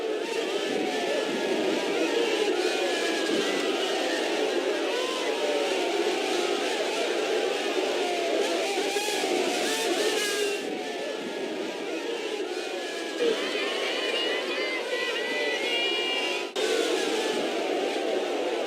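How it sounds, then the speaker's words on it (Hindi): Crowd at a Modi rally chanting slogans to welcome Prime Minister Narendra Modi, a continuous roar of many voices with rhythmic shouting, dense and steady throughout, heard from within the throng. "घर घर मोदी हर हर मोदी का नारा लगाते हुए ये कुछ एम्बियंस आप सुनिए"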